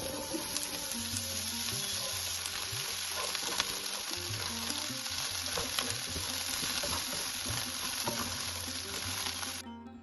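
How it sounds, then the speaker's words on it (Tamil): Chopped broad beans (avarakkai) hit a hot pan for poriyal, a loud, dense sizzle and crackle that carries steadily throughout, with faint stirring clatter, then cuts off at the end. "இப்போது கட் பண்ணி வச்சுருக்கிறேன் இந்த அவரைக்காயை இதோட சேர்க்குறேன்."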